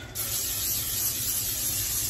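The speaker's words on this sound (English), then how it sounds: "spray your dish" Cooking spray hisses steadily onto a baking dish for a couple of seconds in a home kitchen, a continuous close, bright aerosol spray from start to finish.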